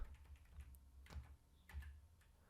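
Computer keys pressed on a keyboard during font editing work in Figma, several light clicks spaced irregularly, a couple of them louder, close and alone with no voices.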